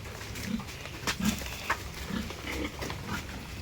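Pigs grunting in their pen on a farm, several low, short grunts spaced irregularly under a steady background hum, fairly close, with no one speaking.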